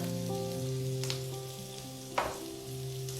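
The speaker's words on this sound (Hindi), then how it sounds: "इसे भी हल्का सा सौते करेंगे। प्याज हमें सिर्फ सॉफ्ट करनी है" Onions sautéing gently in a pan for shahi paneer, a quiet steady sizzle with a couple of brief stirring scrapes and a low hum, no voices.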